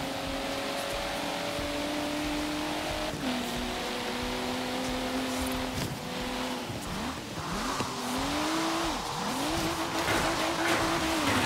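A BMW M4 Liberty Walk drifts in Forza Horizon 3, its engine droning steadily while the tires squeal in long, wavering wails that rise and fall through repeated slides.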